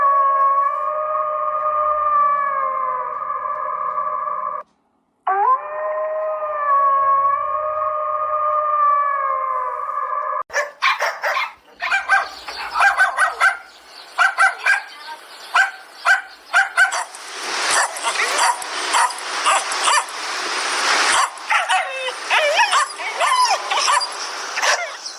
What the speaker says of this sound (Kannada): ನಾಯಿಗಳು ನೋಡಿದ್ರೆ ಹಿಂಗೆ ಬಡ್ಕೊಂತವೆ